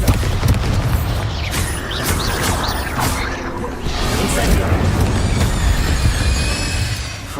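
Bombarda spell blasts in Hogwarts Legacy, a dense run of booming magical explosions with whooshing and crashing debris, loud and continuous throughout, with spell-casting voices shouted over the din.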